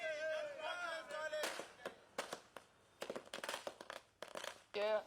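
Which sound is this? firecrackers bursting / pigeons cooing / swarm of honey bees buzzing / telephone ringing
firecrackers bursting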